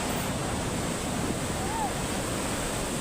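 Sea waves at Puri beach make a steady, broad roar of surf that stays constant throughout, with a windy wash and no clear breaks between waves.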